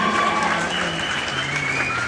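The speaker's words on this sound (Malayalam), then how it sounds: "നല്ലൊരു കയ്യടി നിങ്ങൾ എല്ലാവരും" An audience applauds at a stage event, a dense continuous wash of clapping from a crowd filling the whole moment.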